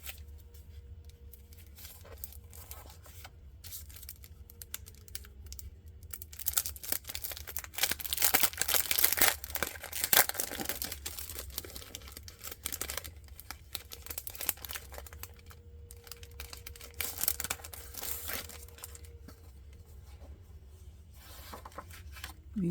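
Sets of slick decorative paper are unpacked and handled close by, giving soft crinkling, rustling and sliding sounds that swell in bursts and then settle, with no talk.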